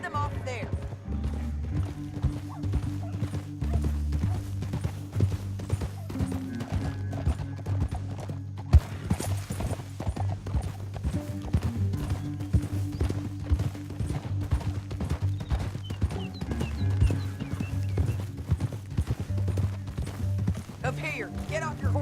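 Horse hooves clip-clop steadily in Red Dead Redemption 2, a continuous rhythmic trot with a low rumble underneath and brief snorts, while characters talk over it.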